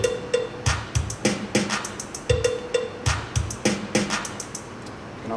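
A drum machine groove box beat made with Java MIDI sounds plays a steady, rhythmic pattern of kick, snare-like hits and ticking hi-hats. The beat is crisp and up front and runs alone with no voices.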